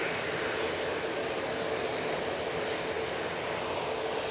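An EasyJet airliner at Manchester Airport, lined up and ready to depart for Milan Malpensa, gives a loud, unbroken engine roar that holds at a constant level.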